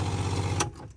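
A camper van's quiet upgraded 40–100 PSI water pump hums steadily with a low buzzing drone, close and even, then cuts off abruptly and fades near the end.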